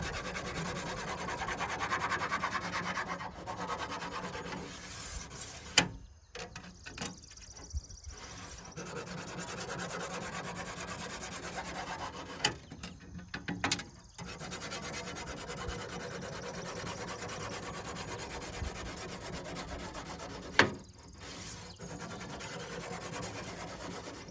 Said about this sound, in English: we carry a sharpening stone. Keep the blade nice and sharp.